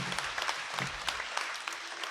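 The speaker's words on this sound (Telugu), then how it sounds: "చప్పట్లు కొడదాం ఒకసారి." An audience applauds during a Catholic mass at a shrine, dense clapping with a few sharper individual claps, moderately close and continuous for a couple of seconds.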